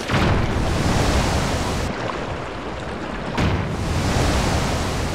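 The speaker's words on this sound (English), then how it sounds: "That's our second water stream" A steady rushing water stream in The Legend of Zelda: Tears of the Kingdom, broad and close, dipping briefly in the middle before returning at full strength.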